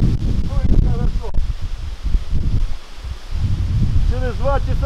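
Gusty wind roaring and buffeting the microphone in bursts at an apiary, with rustling and chirping birds in the background.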